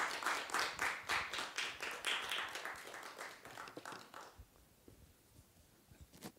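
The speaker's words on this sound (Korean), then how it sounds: "박수 크게 쳐주시기 바랍니다." An audience at a social welfare department orientation claps in unison, a rhythmic, steady beat of many hands for about four seconds before fading into quiet room tone with a few stray sounds.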